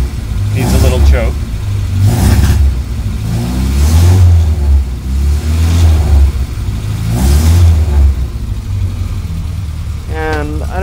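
A running Bugeye car engine idles with a low, steady rumble that swells and settles in slow pulses, and someone talks over it throughout.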